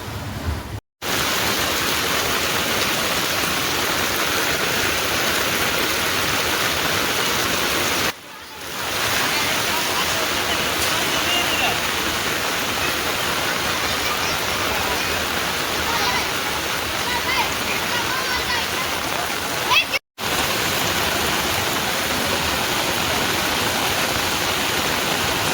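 Heavy rain pours over a village in a steady, loud, broadband roar that runs almost without pause, broken only by a couple of brief dropouts.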